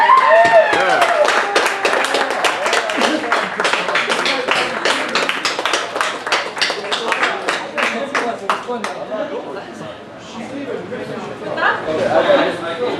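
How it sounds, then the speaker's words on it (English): A theatre audience at an open-mic night claps steadily in a close, dense burst of many hands, loud at first and thinning a little toward the end, with chatter and a few voices mixed in. "how about a big round of applause for all of you lovely people here"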